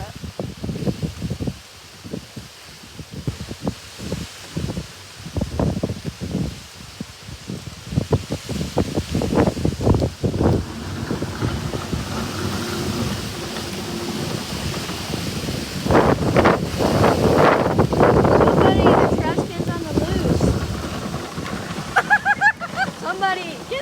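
Strong derecho wind gusts roar and rush through leaves and trees for the whole stretch, swelling louder in the second half, with people talking intermittently over the noise.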